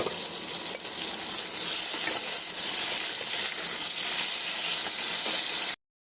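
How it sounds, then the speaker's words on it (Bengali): Potatoes frying in an uncovered pan make a dense, loud, continuous sizzle with faint stirring, cutting off abruptly near the end. "এবার ঢাকাটা খুলে ভালো করে ভেজে নেব আলুটা।"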